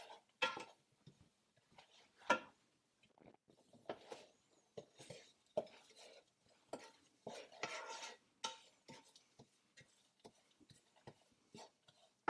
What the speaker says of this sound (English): The idea here is just to brown them. We don't want to burn them, so we'll want to stir continuously for about 3 minutes or so.